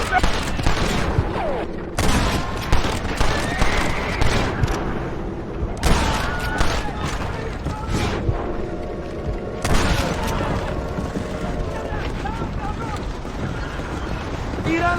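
Gunfire crackles through an ambush in the Western video game Red Dead Redemption, with dense volleys of shots and booms bursting repeatedly over fifteen seconds amid loud, busy action and voices.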